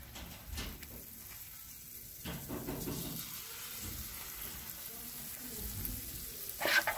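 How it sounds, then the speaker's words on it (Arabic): A parsley omelette fries in fresh, clean oil in a pan, a steady close sizzle and crackle continuing throughout, with occasional stirring and scraping noises. "وبعد ما خلصنا من قلي البطاطا هلا بدنا نقلي العجه"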